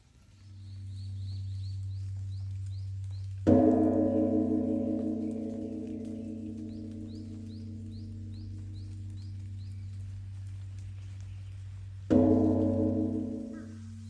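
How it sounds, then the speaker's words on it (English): A deep Buddhist temple gong in Korea struck twice, each hit ringing out and slowly fading over a steady low hum, with faint bird chirps and soft rain patter behind. "You can hear like the gong being hit in the background, some birds, some rain sounds"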